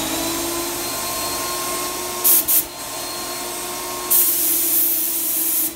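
An Avanti five-stage HVLP turbine paint sprayer running with a steady, loud whining hum, broken by a couple of short hissing spray bursts and then a longer spray hiss over the drone.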